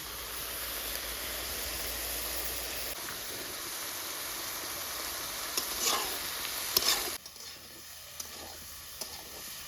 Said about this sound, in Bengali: লবণ হলুদ দিয়ে 5 মিনিট ঢেকে রাখা বেগুনটাকে ভেজে নিব।